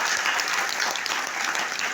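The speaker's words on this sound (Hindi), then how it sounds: "जोरदार ताली होना चाहिए।" Sustained loud audience applause filling the room at a business seminar, dense steady clapping from a large crowd with no pauses.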